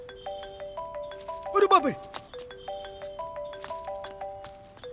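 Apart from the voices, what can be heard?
phone ringtone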